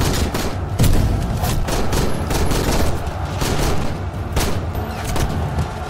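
Rifle fire from Sikh warriors defending a fort against attacking Afghan soldiers, a dense fusillade of sharp overlapping shots and booms that continues steadily throughout, loud and close with no talking.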